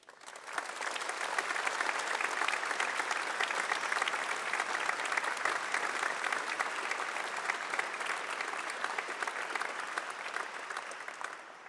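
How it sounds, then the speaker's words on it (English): Steady, dense applause from a large graduation audience in a university ceremony hall, sustained and even for the whole stretch with no talk over it. "ask all graduates to give them a round of applause"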